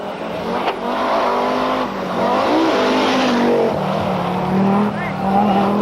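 An Audi Quattro rally car driven by Stig Blomqvist at the 1000 Lakes Rally, its engine rising and falling as it drives through the stage, loud and close, with voices speaking over it throughout.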